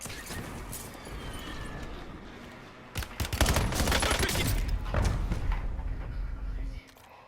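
Gunfire in the video game Call of Duty comes as a burst of sharp shots that turns into a dense rattle of automatic fire. A voice is heard faintly under the shooting.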